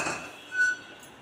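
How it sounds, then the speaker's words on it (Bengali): A kadai (wok) set down on a stove: one short metallic clink with a brief ringing tone, quiet and close. "আর কড়াই বসিয়ে দেব।"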